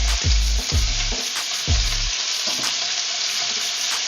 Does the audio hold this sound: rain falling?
no